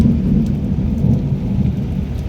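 Heavy rain pours down steadily, loud and close, with deep rumbling thunder rolling through the downpour.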